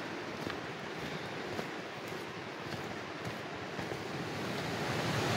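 Steady rushing roar of Abrams Falls in the Great Smoky Mountains in December, broad and continuous, heard from nearby without voices.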